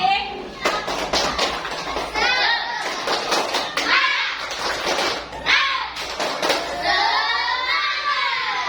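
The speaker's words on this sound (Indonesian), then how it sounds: "Coba tepuk sangat semangat sekali lagi." Children in a group clap with gusto, rapid hand claps and thumps layered over lively kids' voices chattering and calling out nearby.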